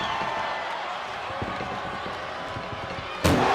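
A single loud ambulance door slam near the end of a WWE wrestling match cuts through steady crowd noise and rumbling activity.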